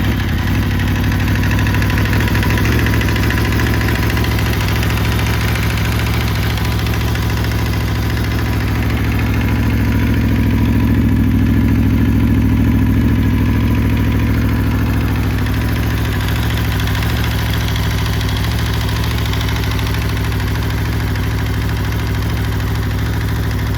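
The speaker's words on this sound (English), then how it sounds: "it has twice as much valve train noise to me" An Aprilia RSV4 V4 sportbike engine idles steadily and loudly up close, its low rumble overlaid with a constant mechanical valve-train clatter throughout.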